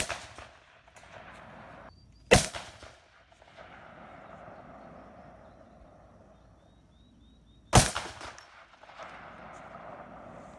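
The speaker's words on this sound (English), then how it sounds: "He's going to shoot the right target down there with the 350 grain Hornady XTPs." Two loud, sharp pistol shots from a Desert Eagle .50 AE firing 350 grain Hornady XTP rounds at an outdoor range, spaced about five seconds apart, each followed by a rolling echo over steady background wind.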